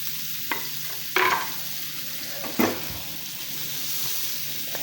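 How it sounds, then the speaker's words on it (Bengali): Green chillies and onion frying in melting butter on medium heat for beef noodles: a steady near hiss with a few sharp spatula scrapes and clatters against the pan, no voices. "কাঁচামরিচ পেঁয়াজ দিয়ে দিলাম।"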